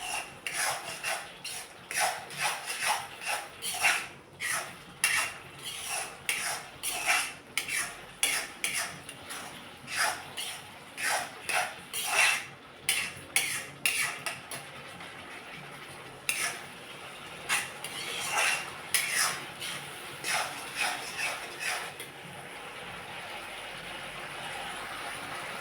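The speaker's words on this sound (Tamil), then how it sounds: "நெய் பிரிஞ்சு வாரது வரைக்கும் நம்ம கிளறிட்டே இருக்கணும்." Yellow pumpkin halwa cooked in ghee being stirred in a pan, with a spoon scraping and clinking against the metal in a steady, repeated rhythm, fairly close and loud, with no talking.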